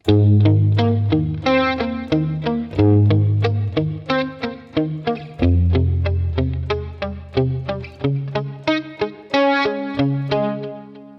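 Electric guitar plays a song's outro riff with a chorused, slightly driven tone, steady picked notes and ringing chords in a repeating pattern, close and loud with no talking.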